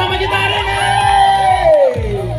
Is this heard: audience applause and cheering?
yes